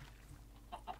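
Chicken clucking in the video game Minecraft, a couple of short, faint clucks near the end over a low background hum, with no voices.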